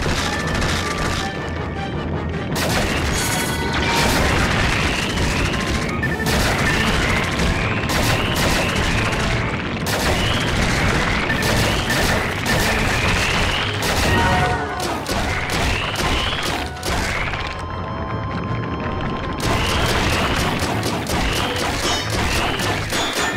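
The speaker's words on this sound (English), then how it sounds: "Machine gun!" A machine gun fires in a Wii shooting game in rapid, loud bursts of stacked blasts that repeat in clusters, broken by brief gaps, with a little speech here and there.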